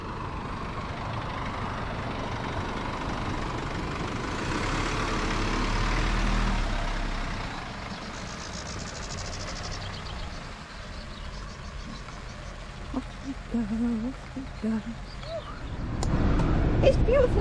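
A car drives along with a steady engine and road rumble heard from inside, swelling slightly midway, with voices over it toward the end.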